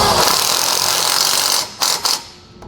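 Ratchet with a 13mm socket driving a self-tapping screw into the unthreaded front of a Ford axle, a loud sustained metallic grinding that stops and gives way to two short separate clicks.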